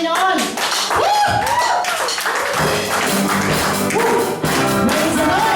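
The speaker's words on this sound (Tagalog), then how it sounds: "Sabay-sabay po tayo pumalakpak sa Panginoon." A worship congregation claps hands together in a lively, rhythmic pattern while voices shout and sing over it, the claps sharp and close beneath the exuberant vocals.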